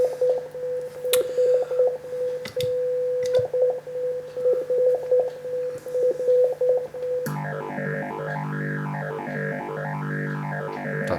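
Boss PH-3 phase shifter pedal, freshly repaired, first a steady tone and short picked notes, then a loud sustained sound sweeping up and down in a slow, regular phasing swirl.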